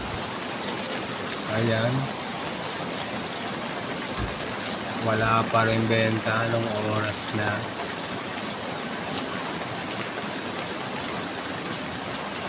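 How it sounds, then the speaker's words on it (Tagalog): Steady rain pours down outdoors in a village street, a dense continuous hiss throughout, while someone talks over it in short bursts. "At ngayon ay umuulan na naman."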